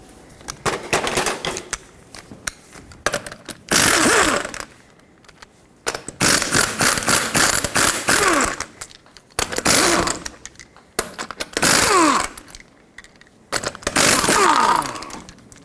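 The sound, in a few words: socket wrench removing 21mm lug nuts, Toyota Tacoma wheel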